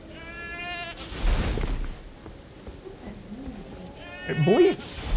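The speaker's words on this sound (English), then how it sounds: "It makes a goat noise." A goat in the video game Elden Ring bleats twice, wavering and nasal, with a loud burst of other noise between the calls and some talk around them.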